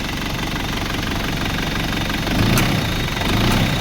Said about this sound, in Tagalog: alright here we go okay engine start